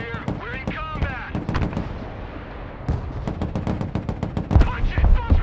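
Battle in the video game Broken Arrow, with dense gunfire, machine-gun bursts and heavy artillery booms, loud and continuous, and voices talking over the fighting.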